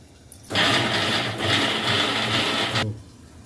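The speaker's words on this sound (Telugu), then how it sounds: "ఇవన్నీ కలిపి మిక్సీ పట్టాలి మిక్సీ పెట్టేద్దాం" A kitchen mixer grinder blends soaked cashews and spices into a paste for potato kurma, a loud, steady whirring roar lasting about two seconds that starts and stops abruptly, with no talking.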